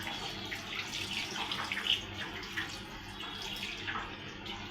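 Tap water runs steadily as hands are washed under it after mixing a river-fish chorchori by hand, a continuous close splashing stream with small shifts in flow, no voices.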